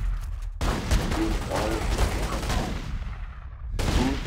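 Gunfire from a Tommy gun in the video game The Godfather II, rapid bursts of shots rattling on for several seconds, with a short break midway before the firing resumes, loud and up close.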